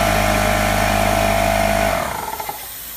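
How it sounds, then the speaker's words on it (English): In a shed, an air compressor powered through a 3000W pure sine wave inverter runs with a loud, steady motor drone and hum, then shuts off and winds down into a few fading clicks. "I have this air compressor here that I'll turn on"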